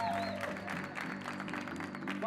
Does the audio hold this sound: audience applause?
yes